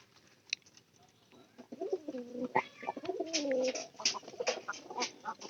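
A pet pigeon kept at home coos in low, rolling phrases, close and fairly loud, repeating several times over faint background noise.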